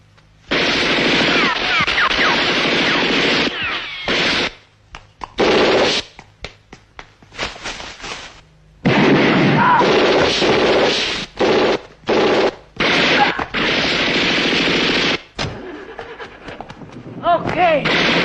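Machine gun fire from a film scene, loud sustained bursts broken by short gaps and single sharp shots, with heavy blasts mixed in. Voices speak in between the volleys.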